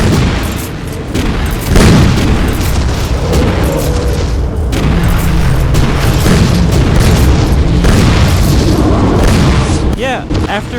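Repeated booming rocket explosions in the video game Vivisector: Beast Within, loud and dense, blasting one after another against a noisy backdrop of battle sounds.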